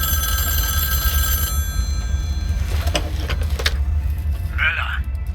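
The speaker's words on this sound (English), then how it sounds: "once you clear out all of the Nazi soldiers from this room, the phone will call" A telephone rings with a steady electronic trill for about the first second and a half inside the video game Wolfenstein: The New Order, followed by scattered game clatter over a low engine-like rumble, with a brief voice near the end.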